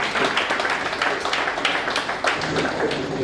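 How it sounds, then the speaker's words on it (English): An audience at a political gathering claps in dense, sustained applause, many hands patting at once, steady and fairly loud throughout with no speech over it. "we want to give them a round of applause for such a job"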